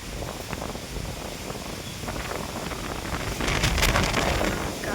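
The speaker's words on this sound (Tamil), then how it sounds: "காற்று" Strong wind on a hilltop beside a coconut grove, a steady loud roaring buffet across the microphone that builds slightly toward the end, with no one talking.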